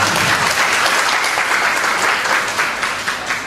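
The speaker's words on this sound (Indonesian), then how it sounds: "Tepuk tangan untuk beliau ya." Steady applause from an audience at a seminar for small-business (UMKM) students in Surakarta, dense and even clapping filling the room throughout with no talking.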